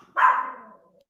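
A single dog gives one loud, close bark with a short trailing tail, heard alone during an indoor podcast recording.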